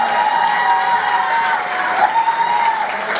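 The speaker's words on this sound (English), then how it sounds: "Big applause." Audience at an empowerment hub presentation event applauds and cheers, a steady, dense wash of clapping with crowd noise sustained throughout at close range.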